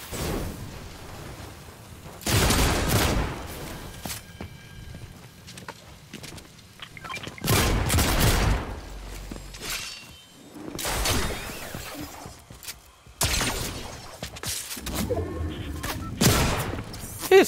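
Bursts of rapid gunfire and crackling impacts in the video game Fortnite come in several loud volleys, separated by quieter stretches with footsteps and faint voices.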